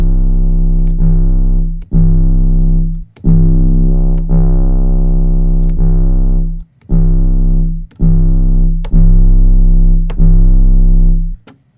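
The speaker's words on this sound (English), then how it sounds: "You can have the fast distortion and then throw an EQ on it." An 808 bass in FL Studio runs through Fast Distortion and an EQ: loud, sustained, gritty low notes played in a steady sequence of long held hits with brief gaps, each starting with a sharp click.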